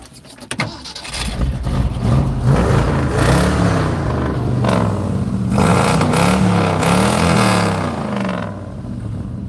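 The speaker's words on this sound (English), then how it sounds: "my truck will actually start" A pickup truck engine cranks and catches after battery terminals were cleaned, then revs up and down in several loud, close surges before settling.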